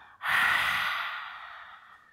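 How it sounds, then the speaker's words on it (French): A long, deep exhale during a yoga breathing exercise, one steady breath out through the body heard close and clearly, slowly fading away. "Dernière fois, inspire par le nez. Et expire."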